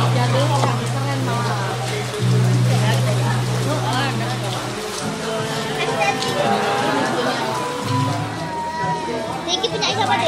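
Rain falls steadily at an outdoor angkringan food stall in Indonesia, a constant hiss of drops spread underneath nearby people talking and children's voices throughout.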